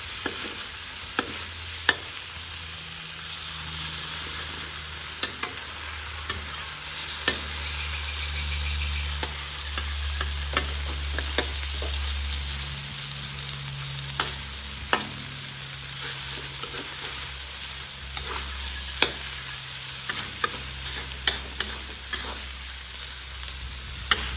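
Eggs are stirred into char kway teow in a hot pan, giving a continuous loud sizzle with frequent metal spatula scrapes and taps over a low burner rumble.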